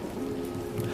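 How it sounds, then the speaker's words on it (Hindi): Steady rain patters on a surface through a dark night, a soft, even hiss of drops without any voices. "बारिश की आवाज के अलावा सन्नाटा था"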